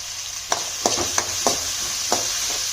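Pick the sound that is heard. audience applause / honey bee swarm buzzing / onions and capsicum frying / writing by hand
onions and capsicum frying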